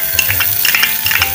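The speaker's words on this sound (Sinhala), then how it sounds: "ඒකට මම මේ බටර් ටික දාගන්නවා" Butter melting in a heated pan while preparing vegetable chop suey, giving a steady close sizzle with soft stirring and scraping sounds running throughout, no talking.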